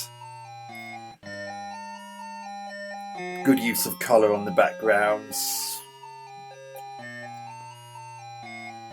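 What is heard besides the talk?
in-game music from a ZX Spectrum video game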